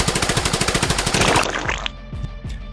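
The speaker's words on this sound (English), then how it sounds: "Her turreted machine gun fires" A turreted machine gun fires a rapid, even burst of loud shots for about a second and a half, then a few trailing impacts and mechanical clanks, with no talking.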